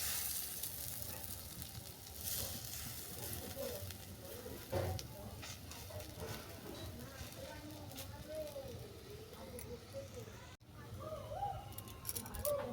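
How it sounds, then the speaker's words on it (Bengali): Oats patty shallow-frying in a pan, giving a faint, steady sizzle with occasional soft clinks of utensils, a voice speaking quietly over it. "দেখো এই টিকলিটা আমার ভাজা হয়ে গেছে,"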